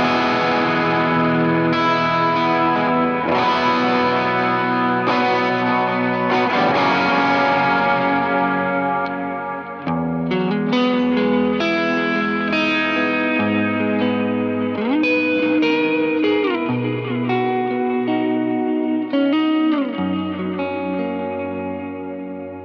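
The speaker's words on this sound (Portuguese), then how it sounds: "eu gosto de colocar às vezes um tube screamer com um ganho baixo e o tone alto, só para dar uma corzinha e uma leve saturada no finalzinho" An electric guitar played through a Kemper with a low-gain Tube Screamer set to a high tone gives a light, warm overdrive, with sustained chords and melodic notes ringing under chorus and echo effects, loud and continuous with no voices.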